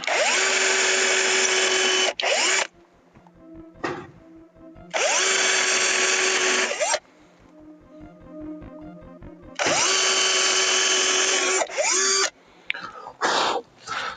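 A power drill drives screws into wood while a loft staircase is built, in three loud sustained whirring bursts of a few seconds each. Quieter clicks and handling clatter fill the gaps between them.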